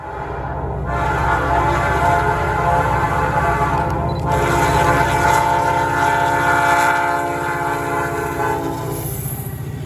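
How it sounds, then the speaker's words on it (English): ICSG-70 locomotive leading a rail train, its horn blaring in long loud harmonic blasts over the heavy rumble and clatter of passing wheels, close and continuous. "here's an ICSG-70 leading a rail train"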